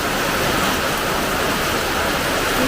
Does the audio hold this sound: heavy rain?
yes